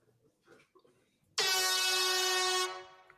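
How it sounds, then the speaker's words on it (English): After a few quiet bumps, an air horn sound button blasts one sustained, brassy honk for over a second, then stops abruptly. "he wanted to see if we had an air horn button"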